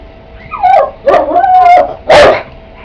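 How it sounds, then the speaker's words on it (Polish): A dog barks three times in quick succession at close range, loud, sharp and yippy, over a quiet indoor room. "Tak, Ary zaczął szczekać, no."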